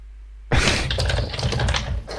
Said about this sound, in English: the furious typing that I can hear through your keyboard